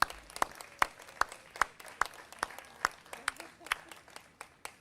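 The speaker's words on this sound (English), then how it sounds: "please give them a big round of applause" Sparse, distinct hand claps at a teacher-recognition ceremony, a thin round of applause from a small audience with sharp separate claps rather than a dense roar, heard alone without talk.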